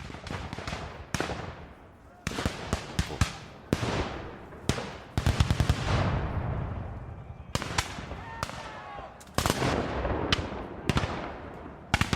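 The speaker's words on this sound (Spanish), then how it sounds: "los cañones confederados abren fuego contra el fuerte Sumter" Confederate cannons open fire on Fort Sumter in spring 1861, sharp loud blasts cracking out in irregular clusters, some rapid volleys and some isolated shots, each followed by a brief decaying rumble.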